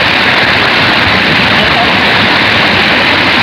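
Strong floodwater current rushes in a loud, steady roar, dense and unbroken throughout with no pauses.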